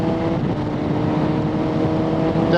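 A Suzuki GSX-S750Z motorcycle fitted with a Translogic quickshifter rides at low speed around 4,000 to 5,000 rpm, its engine giving a steady, close, loud drone with even tonal harmonics, and no speech over it.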